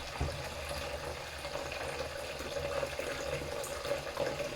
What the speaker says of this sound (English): we fill up the bowl with water and squeeze in some washing up liquids.